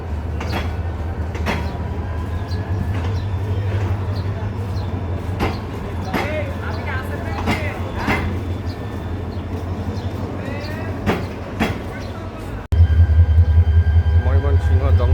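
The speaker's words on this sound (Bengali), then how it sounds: "ময়মনসিংহ জংশন হতে 1 নম্বর প্ল্যাটফর্ম থেকে চট্টগ্রামের উদ্দেশ্যে নাসিরাবাদ এক্সপ্রেস ট্রেনটি" The Nasirabad Express bound for Chattogram departs platform 1 at Mymensingh Junction, a steady low rumble with scattered clicks and squeals that shifts to a louder, heavier drone near the end.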